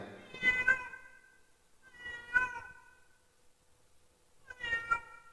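A cat meows three times, each call drawn out and clearly voiced, spaced a couple of seconds apart in a quiet indoor space with no other sounds.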